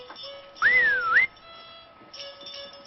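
A person whistles one short, clear, near note that rises, dips and rises again, lasting about half a second amid otherwise quiet surroundings.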